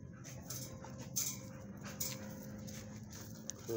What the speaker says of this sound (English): That's a good doggy, Bella.